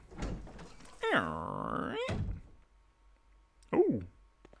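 A door in the survival horror game Resident Evil HD opens with a low thud, then a long creaking groan and a heavy thump, followed after a pause by a short, higher creak.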